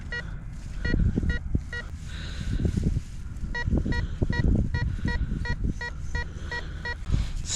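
A DetectTrek M55 metal detector with a square search coil sounds a run of short, evenly spaced electronic target beeps at moderate volume, repeating steadily over a scrape of digging and handling noise.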